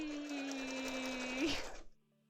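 A sewing machine runs steadily as it stitches zigzag on cosplay fabric, a close, continuous whirring hum that slows and stops near the end.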